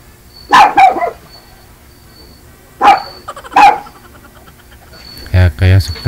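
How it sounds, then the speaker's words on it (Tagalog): A neighbour's dog barks in short bursts of two or three sharp barks, loud and close, separated by quiet gaps. A deeper, thudding sound comes near the end. "tinatahol ng aso, ma'am, kasi andyan ka sa bahay ng kapitbahay mo"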